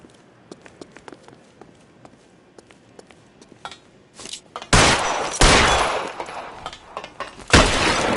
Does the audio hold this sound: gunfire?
yes